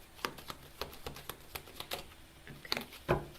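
Tarot cards being shuffled by hand give soft, quiet riffling and tapping bursts in a loose, uneven rhythm, close by and alone.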